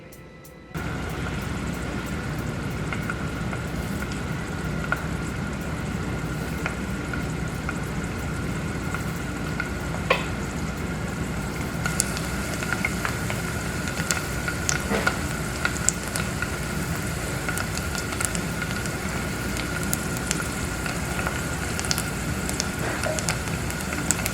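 Garlic sizzles gently in a pan over low heat, a steady crackling fry that starts abruptly and continues evenly at moderate level, dotted with small pops and light stirring, with no voices.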